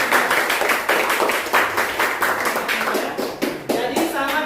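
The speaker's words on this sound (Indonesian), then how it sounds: "Oke, tepuk tangan untuk kelompok" A classroom audience claps for a presenting group, brisk and dense with sharp individual claps, steady for several seconds and close by.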